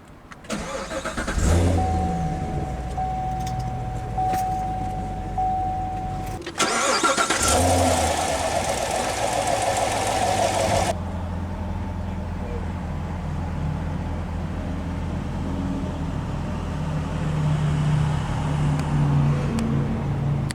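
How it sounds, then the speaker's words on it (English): A 2018 Chevrolet Corvette Grand Sport coupe with a seven-speed manual cranks and fires with a sharp loud burst, then settles into a steady, deep idle that continues to the end, with a brief voice early on. "Let's go ahead and start the engine."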